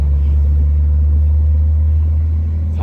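A Jeep Comanche idles with a loud, deep, steady engine and exhaust rumble, close up, with no voices.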